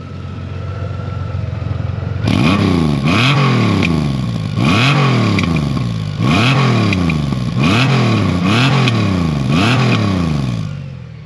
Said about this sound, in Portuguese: ouvir só aqui um bocadinho do barulho do escape dela